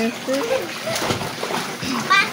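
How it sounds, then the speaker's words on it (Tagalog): Children splash and play in water while bathing outdoors in front of a house, with steady splashing and sloshing under excited kids' voices and chatter throughout. "Ayan, naliligo sila."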